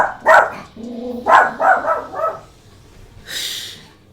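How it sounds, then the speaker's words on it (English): A dog barks loudly in a fantasy role-playing game, a short run of sharp close barks followed by a brief whimper, alone without talk. "That dog just does not know when exercise a little tact."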